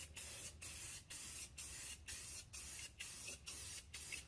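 Rust-Oleum black gloss enamel is sprayed from an aerosol can onto tiles in short, evenly spaced hissing bursts with brief gaps, about nine passes in a row. The sound is close but fairly quiet, with no talk.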